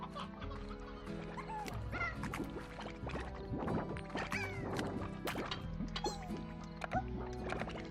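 Chickens in the Slime Rancher video game cluck in a busy, overlapping chorus over game music, with scattered clucks and squawks and a few sharp thumps, all fairly faint.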